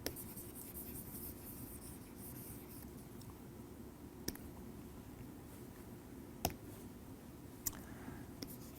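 Chalk or marker scratching on a board as equations are written in a lecture hall, a steady scratchy texture with a few sharp taps and clicks over a low background hum.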